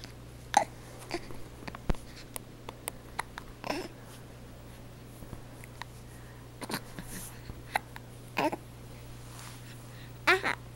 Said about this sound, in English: Your hiccups are so cute.